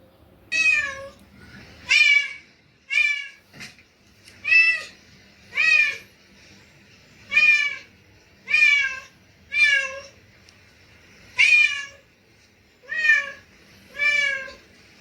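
A cat meows about eleven times in a steady rhythm, roughly one call every second, each call loud, close and bright, with no talking over it, set in the Gujarati children's song 'Ek Biladi Jadi' about a fat cat.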